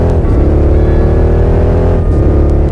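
A fast sports car engine drones at high, steady revs for a few seconds, loud and close, with a brief dip and rise in pitch near the end and no talk.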